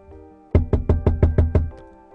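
Seven sharp, evenly spaced knocks on a door ring out loud and close after a moment of quiet, a deliberate sound effect in a Korean horror radio drama.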